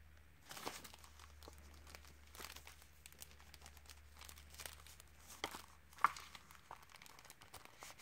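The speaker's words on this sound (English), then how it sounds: "Let me go ahead and put the last 10 sheets." Paper refill sheets being fitted into a Lihit Lab Aqua Drops notebook, giving quiet crinkling and rustling handling noises with a few soft taps and one sharper snap, close by with no talk.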